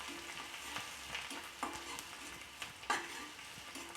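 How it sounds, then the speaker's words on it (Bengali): Minced garlic and ginger frying in a pan for chili chicken, a steady sizzle broken by several sharp spatula scrapes at irregular intervals, close and alone with no voices. "এটা আমি 20 থেকে 25 সেকেন্ড ভালোভাবে ভেজে নেব।"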